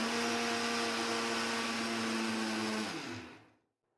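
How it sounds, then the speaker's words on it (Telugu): A kitchen mixer grinder blends turmeric for homemade kumkuma, running with a loud, steady whirring drone before being switched off and winding down to silence. "కాబట్టి మనం మిక్సీకి వేసుకోవచ్చు."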